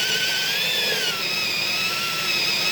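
A drill bores down through a wooden floor and subfloor, giving a steady, loud, high-pitched whine that keeps going without a break the whole time, with no voices.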